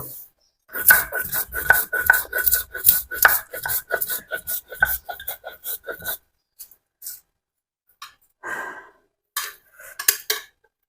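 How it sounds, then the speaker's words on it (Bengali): Spices ground by hand on a flat grinding stone, a rapid run of rhythmic scraping rasps for about six seconds, then a pause and a few scattered rubbing strokes, close and clear with no talk. "এবার মশলাগুলো একটু বেটে নিব"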